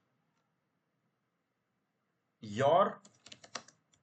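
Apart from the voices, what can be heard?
typing text on a computer keyboard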